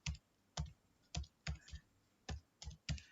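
Quiet, separate keystrokes on a computer keyboard, about eight clicks with uneven gaps, close by and with no talking.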